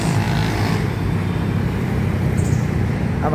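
Steady road traffic rumbles along a busy street near LRT Santolan station at night, a continuous wash of engines and tire noise with a brief higher whine passing near the end.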